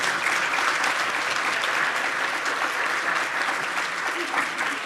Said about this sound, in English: Let's give another round of applause to our moderator, Shannon Sims, our presenter, John Johnson